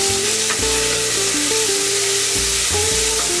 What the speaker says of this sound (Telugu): మనం కట్ చేసుకున్న టమాటోస్ వేసేసుకుందాం అదే హై ఫ్లేమ్లో రెండు నుంచి మూడు నిమిషాలు అట్లా కలుపుకుంటూ కుక్ చేసుకుని